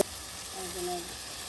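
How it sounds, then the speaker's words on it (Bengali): Dried shrimp being sautéed with chopped potato, onion and garlic, a steady close sizzle and hiss throughout, with a faint voice briefly audible underneath. "কত শুটকি একসাথে, তার সাথে আলু কুচি, পেঁয়াজ কুচি, রসুন কুচি সব, হ্যাঁ, একসাথে একদম কষিয়ে মজে নেওয়া হবে"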